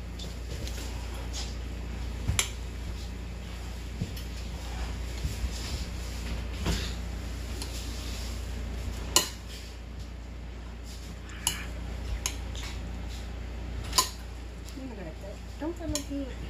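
Peas and carrots are stirred in a pan for shrimp fried rice. Sparse utensil clinks and scrapes against the pan sit over a low, steady kitchen hum, and faint voices may be present.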